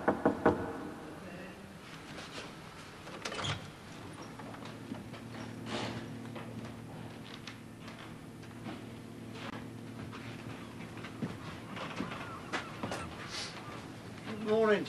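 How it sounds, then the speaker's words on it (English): Knocking on a door in a 1987 film scene: a few scattered, sharp raps over a steady, busy background hum. "Go on then, knock."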